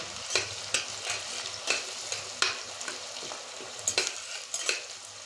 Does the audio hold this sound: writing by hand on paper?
no